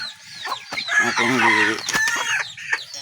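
Chickens clucking and a rooster crowing at a poultry breeding setup, close and loud, with someone speaking briefly over the birds.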